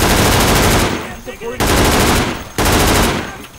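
Automatic gunfire in the tactical shooter game Insurgency, three loud sustained bursts separated by short gaps, with faint speech in the pauses.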